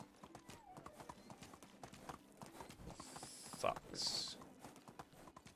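Horse hooves clip-clop at a steady riding pace in the video game Medieval Dynasty, with creaking tack. A brief whinny rises near the end, and a voice speaks a word over the hoofbeats.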